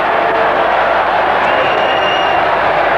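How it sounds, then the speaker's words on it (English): A rugby league stadium crowd in 1997 reacts to a penalty against North Queensland, a steady, loud roar of voices and murmured disapproval filling the whole moment. "The crowd not really agreeing with it too much"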